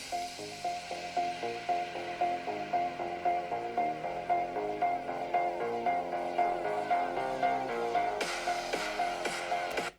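A 2025 Razer Blade 16 laptop's built-in speakers play music at half volume, a steady rhythmic track with a recurring melodic note and pulsing beat, fairly quiet and heard alone.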